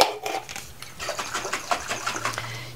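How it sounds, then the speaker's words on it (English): A jar of baking soda and water shaken by hand, a steady run of rhythmic sloshing and rattling strokes heard up close, with no voices. "you're just gonna shake that up"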